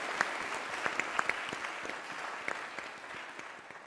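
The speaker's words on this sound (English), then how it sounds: "You can get claps for that." An audience at a college Crown Forum event bursts into applause for a lieutenant general's introduction. The dense, moderately distant clapping carries a few sharper individual claps standing out and slowly eases off.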